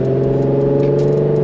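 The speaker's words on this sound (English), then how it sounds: "turbo noises" Steady turbocharged hum from a Nissan 3.0T VR30 twin-turbo V6 holds a constant whirring drone with a few faint ticks layered on top, close and continuous without any change in pitch.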